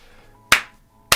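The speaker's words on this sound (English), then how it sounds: "Give you a little applause" Two sharp, loud hand claps about half a second apart, close and isolated over quiet background hum.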